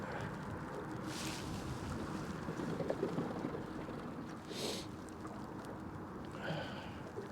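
Strong wind gusting on open water while fishing from a boat, a low continuous rumble of wind buffeting the microphone with a few brief gusty swells, fairly faint and without talk.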